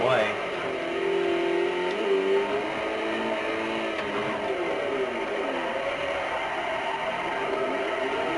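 A car engine revs hard at full throttle in Forza Motorsport 4, drifting with a steady, loud droning pitch that rises and falls slightly, while someone talks over it.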